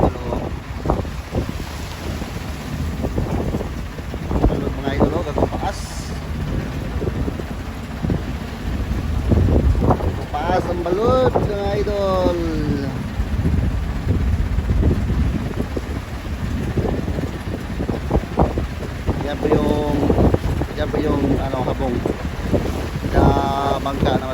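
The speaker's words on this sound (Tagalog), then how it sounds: "grabe ang hangin" Strong wind roars steadily across the microphone, with rushing sea noise and occasional voices talking faintly underneath.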